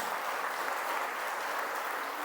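Church congregation applauding for the word of God during a Spanish-language sermon, a dense, continuous burst of clapping at steady volume from start to finish.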